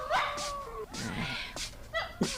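Caged dogs with their mouths tied shut whimper in thin, wavering whines and short yelps, close by and fairly quiet, several overlapping cries over a couple of seconds.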